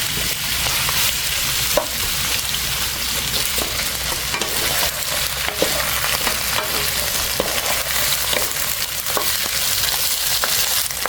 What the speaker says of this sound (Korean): 그리고 바로 새우를 넣어 볶아요.